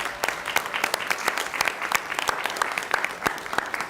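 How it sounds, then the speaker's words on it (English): Attendees at a BCC meeting give sustained applause, a full crowd clapping with sharp individual claps standing out above the steady wash, fairly close and loud. "I would love to just give her a round of applause for that"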